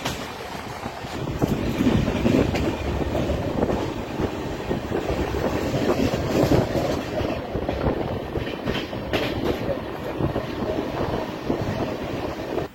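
A Pinakini Express train with new coaches runs toward Vijayawada, heard from aboard as a continuous close rumble of wheels on rails with some wind noise and no voices.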